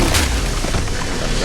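A grenade goes off in the Resident Evil Requiem video game as a loud, low boom with a rumbling tail, with someone speaking over it.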